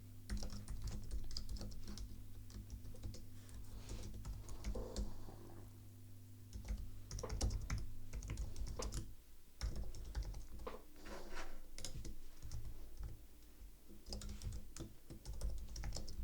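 Code is typed on a computer keyboard, with rapid irregular clacking keystrokes in bursts and short pauses over a low steady background hum, and no speech.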